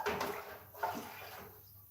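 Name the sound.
pouring water into a pan for mixing drywall mud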